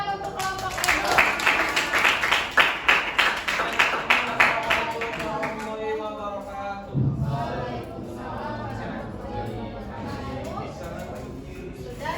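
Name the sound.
applause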